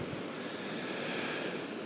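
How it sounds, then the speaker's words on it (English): Waves roll ashore on a Texas coastline beach at night, a soft steady wash of white-noise surf, faint and continuous with no voices. "Maybe you can hear the waves coming ashore."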